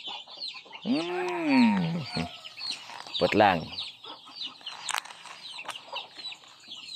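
Chickens clucking and squawking close by, with a loud drawn-out call near the start and softer clucks scattered after, a few faint words mixed in.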